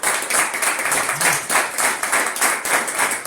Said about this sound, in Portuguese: Vamos aplaudir o Senhor em nome de Jesus.